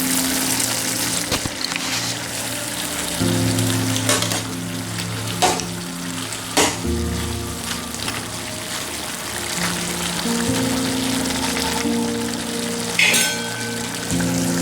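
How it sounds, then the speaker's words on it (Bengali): Steady sizzling of food frying in a pan, with occasional clinks and scrapes, under a faint bed of background music. "একটু ছোটো ভাজা করছি"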